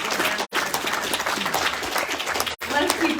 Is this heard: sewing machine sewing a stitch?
no